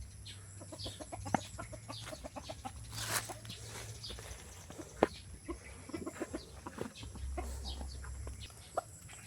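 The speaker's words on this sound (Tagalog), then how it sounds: "kain na yung manok natin." Chickens cluck and chatter repeatedly at moderate distance while eating after rain, short bursts scattered across the scene, with occasional sharper calls and light outdoor noise.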